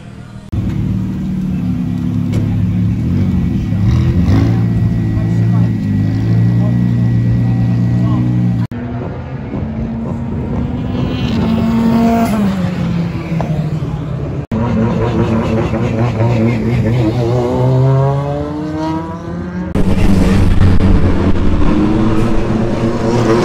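British Touring Car Championship race cars idle and rev in the pitlane before practice starts, a loud, close engine drone with rising and falling rev sweeps, while people talk over it.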